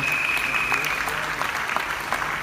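Steady applause from a crowd at an event honoring guests, dense clapping filling the whole stretch at moderate level with a faint tone running briefly through the first half.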